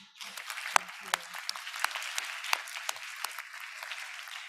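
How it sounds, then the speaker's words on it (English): Conference audience clapping for a discussion panel at a bioeconomy and agrifood event, quiet and fairly sparse, with individual claps standing out over a soft steady patter. "One more round of applause to our panel"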